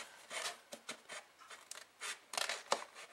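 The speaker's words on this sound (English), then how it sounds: "I'm going to try to take my scissors" Scissors trim a fabric bag piece with a quick series of soft, close snips and rustles at an uneven rhythm, heard alone and fairly quietly.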